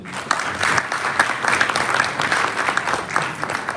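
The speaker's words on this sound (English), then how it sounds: "Ladies and gentlemen, let us clap for the panel." An audience at a bank succession-planning breakfast applauds a panel, a dense, steady clapping that holds at one level throughout, with no voices over it.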